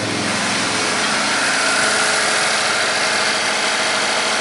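A Chevy Equinox engine idles steadily after repair, with a dense, even hum and continuous mechanical clatter at close range.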